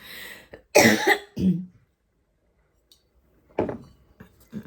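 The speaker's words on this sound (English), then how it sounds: "I'm going to cough" Two or three sharp, close coughs in quick succession, followed by silence and then faint rustling and a small clink.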